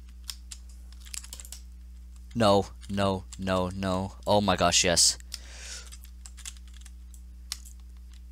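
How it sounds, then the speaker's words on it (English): Rapid clicking of a computer keyboard being mashed hard and fast during a video game, with a person speaking excitedly over it. "If you can hear my keyboard being mashed, I'm sorry."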